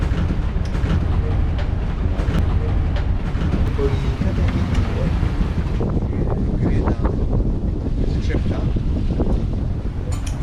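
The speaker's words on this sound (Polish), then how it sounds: "No i troszeczkę wiatru mamy w końcu." Steady wind rushes over the microphone aboard a sailboat heading toward Sifnos in the Greek islands, a loud continuous buffeting roar with water and hull noise underneath throughout.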